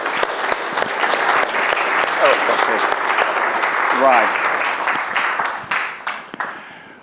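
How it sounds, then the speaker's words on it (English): A large audience applauds warmly for Peter Fenwick at a morning talk on death, with dense, sustained clapping that fades out toward the end while a voice speaks briefly over it. "A round of applause for Peter Fenwick"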